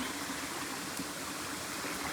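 Near Dudhsagar Falls, a stream flows with a steady, even rush of water. The wash is fairly soft and continuous, with no voices over it.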